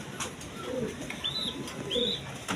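A pigeon in a large cage coos faintly at a distance, a few soft calls over quiet background with thin high chirps.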